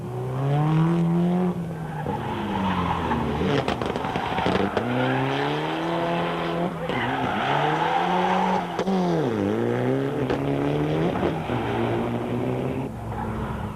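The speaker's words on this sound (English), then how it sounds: "With tortured tyres screaming in protest at the abuse meted out of them" Rally cars on a Volkswagen Rally 2005 stage howl past loudly with screaming, squealing tyres and revving engines whose pitch sweeps up and down through corners, continuous and close with no talk.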